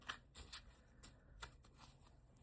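Tarot cards being shuffled in hand during a fire-sign reading: quiet, quick riffling flicks and soft slaps in short irregular bursts, close by with no talking.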